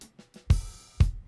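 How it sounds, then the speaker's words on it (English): Layered Nashville snare drum samples with rim, struck twice in isolation, each a sharp punchy crack with a short ringing tail, preceded by a few soft ghost taps. "find the Nashville snare"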